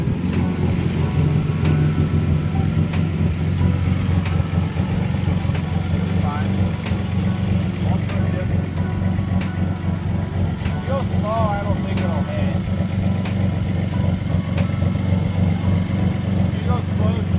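A VR6-swapped MK1 Rabbit with a freshly fixed clutch runs as a loud, rough engine drone throughout, with people talking over it and faint knocks and chirps mixed in.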